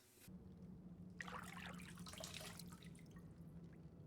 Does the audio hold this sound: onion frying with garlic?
no